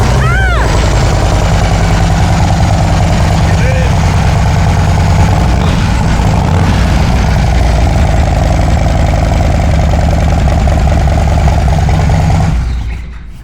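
Harley-Davidson touring motorcycle (2024+ model) engine starting up and settling into a steady, loud, close idle that runs for about twelve seconds before cutting off.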